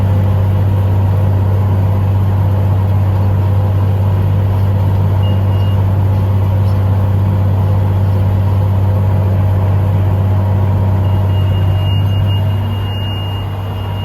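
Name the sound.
tractor baling straw at seven miles an hour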